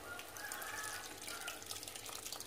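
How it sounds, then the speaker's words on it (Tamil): Tamarind water pours steadily into a pan, a soft continuous splashing and trickle heard close up and fairly quiet, with no talking. "இப்போ இதில் புளித்தண்ணி ஊற்றிடலாம்."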